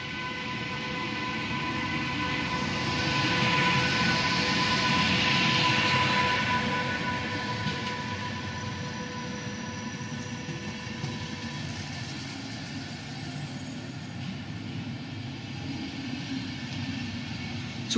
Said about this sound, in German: da fährt sie, die Rheingold. Nun fährt sie weiter nach Dortmund.